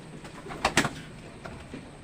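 Pigeons coo close by, a couple of soft throaty cooing calls clustered together followed by fainter ones, over quiet outdoor background.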